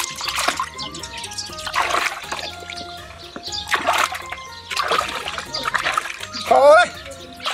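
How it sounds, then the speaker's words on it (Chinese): While a large split cow head is washed, water splashes and sloshes loudly in repeated surges, mixed with trickling. Someone talks throughout over the water. "现在彻底的把牛头洗干净，把眼睛鼻子都洗干净了。"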